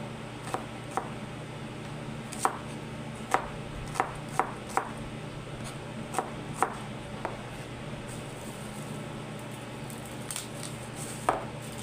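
Onion being chopped with a knife on a board for sinigang, a series of about a dozen sharp, irregular taps, fairly close but quiet, over a low steady background hum.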